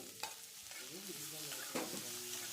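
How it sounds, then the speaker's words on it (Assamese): Onions and garlic frying in hot mustard oil in a pan, a soft close sizzle with a few stirring scrapes, quiet, with no voices. "অলপ মিঠাতেল, আৰু তেলখিনি গৰম হ'বলৈ দি প্ৰথমতে পিঁয়াজখিনি দি ল'লোঁ"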